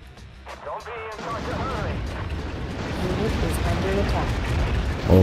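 Tanks in the real-time strategy game Act of Aggression keep firing while on the move: heavy booming shots and rumbling explosions build into a dense, loud barrage, with someone talking over the battle.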